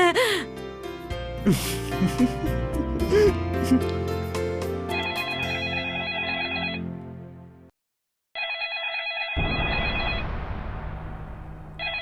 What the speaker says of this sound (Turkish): Telefon susmak bilmedi.